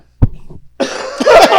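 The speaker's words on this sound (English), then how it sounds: "We're doing the synchronized coughing event" A short cough, then a burst of several rough coughs layered together, loud and close, as if more than one person is coughing at once.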